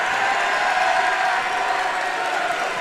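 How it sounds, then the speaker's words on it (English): A high school basketball fan section cheers from the stands, a dense wash of crowd noise, clapping and shouts held at a steady, loud level throughout. "Brookfield Central's crowd is starting to get into it. You hear the fan section."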